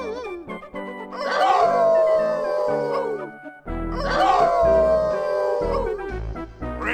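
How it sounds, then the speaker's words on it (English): Video game dogs from Inherit the Earth join in a group howl, two long rising-then-falling howling passages in succession, loud and close, with layered yips and harmonics. "Hey, everyone, how about a good group howl?"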